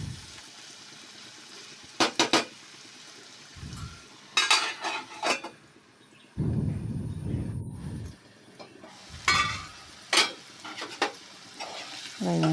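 Food frying in a pan before fish goes in: a soft sizzle runs beneath intermittent scraping and stirring clinks of a utensil against the pan, with one longer louder burst of hissing.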